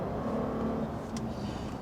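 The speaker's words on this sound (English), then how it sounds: "Engine's back alive, but I'm in neutral now." A Mercedes SL350 engine fires back up and settles into a steady, loud idle close by, with a continuous low rumble and no talking.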